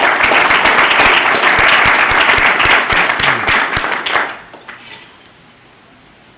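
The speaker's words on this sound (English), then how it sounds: "So if you would applaud again for this group and thank them very, very much." An audience claps for a community group in a convention center hall, a loud, dense burst of applause lasting about four seconds before it thins into scattered claps and fades to near quiet.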